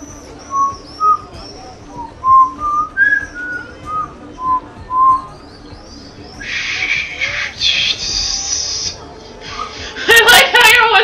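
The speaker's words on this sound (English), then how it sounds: "I like how your whistle got all raspy." A character in Assassin's Creed Revelations whistles a string of short, rising and falling notes, growing raspy and breathy, followed by harsher hissing noise bursts near the end.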